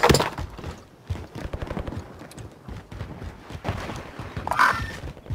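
Gunfire in a Call of Duty Warzone Resurgence quads match, scattered sharp shots and short bursts of varying distance crackling throughout, with faint game ambience between them.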